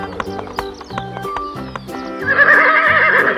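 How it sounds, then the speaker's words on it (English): A brown horse whinnies repeatedly with sharp harmonic calls, alternating with quick, close clip-clop hoofbeats before a long, loud neigh swells near the end. "It's a horse."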